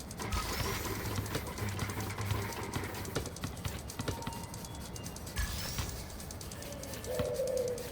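Pigeon cooing in Marvel's Spider-Man Remastered on a New York City street, a soft low coo repeating over steady city ambience and game sound, with no talking.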